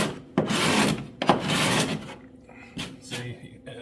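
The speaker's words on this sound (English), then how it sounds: "you are scraping with the grain as you're going across" A card scraper shaves along the grain of the cedar strip hull inside a guideboat, giving several rasping back-and-forth strokes, close and fairly loud, with short pauses between passes.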